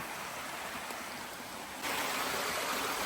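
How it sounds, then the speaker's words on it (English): Steady rushing water from a seasonal waterfall in Tujunga, California, pouring into a tunnel that drains back into the river; a continuous broadband roar that swells louder partway through, with no talk. "this water is actually coming down and it's pouring into this like tunnel, and it goes right back into the river"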